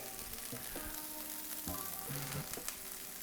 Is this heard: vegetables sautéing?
yes